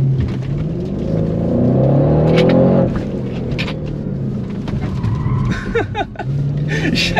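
An Audi RS6-R tuned to 730 hp accelerates hard, its engine roaring loud and close with a rising pitch that cuts off sharply, followed by lower rumbling and clicks.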